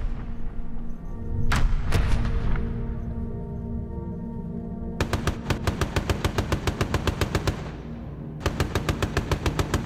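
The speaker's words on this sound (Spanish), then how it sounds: "Lo primero que hacíamos al abandonar la costa de Inglaterra era probar las ametralladoras." Machine guns test-fired from a WWII bomber over the sea after leaving the English coast: a steady engine drone with a few heavy bangs, then loud, close, rapid bursts of regular repeated shots.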